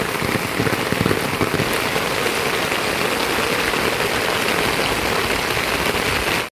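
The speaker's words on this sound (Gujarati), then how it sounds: "વરસાદ પણ જબરદસ્ત વરસી રહ્યો છે" Heavy rain pours down in a dense, unbroken roar, drumming steadily on surfaces before ending abruptly.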